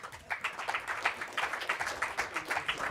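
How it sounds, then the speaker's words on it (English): An audience at a business coalition event applauds as a speaker comes to the podium, a steady patter of clapping that sounds fairly distant and soft, with no voices over it. "Let's give her a round of applause"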